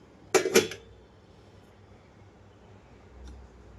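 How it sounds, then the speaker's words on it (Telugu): A pressure cooker lid being lifted off after the steam has fully released, after cooking spinach dal: a couple of sharp metallic clanks close together near the start, then quiet kitchen room tone. "ఆవిరంతా అయిపోయినాక మూత తీస్తున్నాను చూడండి"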